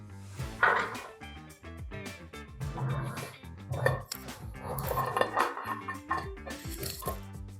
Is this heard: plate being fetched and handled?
yes